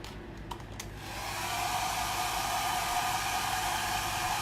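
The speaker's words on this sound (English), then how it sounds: "I'm going to use my hair dryer to dry this a little bit." Hair dryer switching on to dry a silk screen, a brief click and rising whoosh settling into a steady, close airflow hiss.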